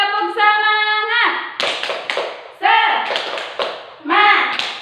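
A primary school class performs the rhythmic 'tepuk semangat' clapping chant, loud bursts of hand claps alternating with children's chanted voices in a classroom, close and energetic.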